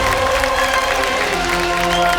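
A studio audience on the quiz show Kaun Banega Crorepati applauds loudly and continuously, with the clapping blended under sustained background music.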